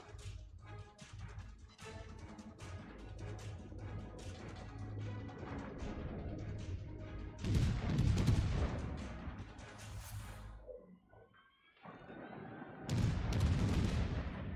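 Naval guns of the USS Worcester fire in a warship game as dense, rolling booms, with heavy salvos and crashes layered continuously and a brief lull before another loud burst.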